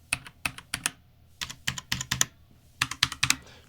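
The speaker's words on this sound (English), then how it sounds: "the DAS actually sound like traditional keyboard" Bursts of crisp mechanical keyboard typing on a Das keyboard, clicky keystrokes in quick clusters with short pauses between, close and alone.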